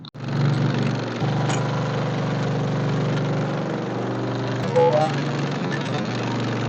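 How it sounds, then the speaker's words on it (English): A tractor engine runs at a steady idle, with a loud, continuous low rumble throughout and a brief dip at the start. "Your tractor will fire right up and tow that."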